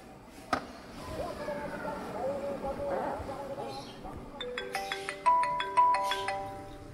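A mobile phone ringtone plays a bright repeating melodic pattern of short tones, starting after several seconds of background noise and muffled voices and growing louder toward the end.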